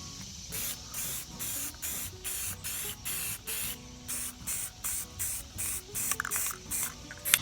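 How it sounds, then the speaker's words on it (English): Charcoal gray spray paint hisses from an aerosol can onto wood in a rapid series of short, even bursts, each roughly half a second, close and fairly loud with brief pauses between. "all we're going to do is just spray it down."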